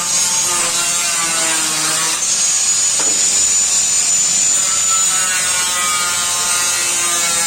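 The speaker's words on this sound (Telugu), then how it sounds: "ఇక రేకు అయితే ఒక సైజు లేదని రేకు అయితే కట్ చేస్తుండు" A metal roofing sheet being cut for a shed, a continuous harsh abrasive grinding with a high whine, steady and close for the whole stretch.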